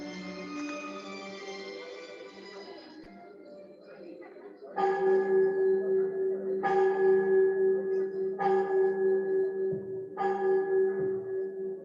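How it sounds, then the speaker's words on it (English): Church bells ring out in a repeating pattern of clear, resonant strikes with lingering tones, following a stretch of other sound, fairly loud and steady. "the bells are ringing"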